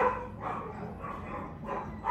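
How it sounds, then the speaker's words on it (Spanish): Dogs bark in repeated bursts at a cat up on the roof and the party wall, about four barks in two seconds. The barking sounds moderately distant and is heard alone. "los perros enloquecieron porque odian ver al gato en la medianera y en el techo"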